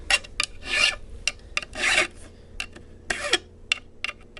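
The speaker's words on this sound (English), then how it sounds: "I want to just get one side completely end filed" A metal file rasps across the ends of stainless steel guitar frets in short, close strokes, a rhythmic series of scraping bursts with brief pauses between them.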